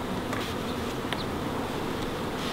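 A dense, steady buzzing of many honey bees hums continuously and close at a hive entrance, with individual insects briefly droning past.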